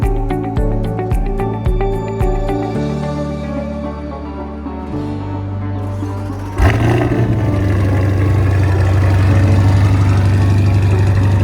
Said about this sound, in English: That's the new General Motors V8.